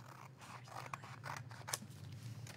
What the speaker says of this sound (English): we're just going to cut on this line right here